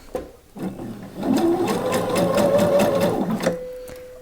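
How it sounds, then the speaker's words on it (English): A sewing machine stitching a seam on a blouse, a steady rapid whirring hum that runs for a few seconds after a brief start, close and loud. "So I'm just going to stitch that."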